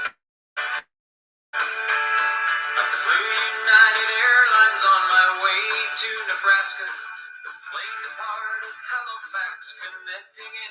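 A song written by a disgruntled United Airlines passenger, played as tonal music with steady harmonic lines after a brief start-stop at the beginning, filling the clip at moderate level.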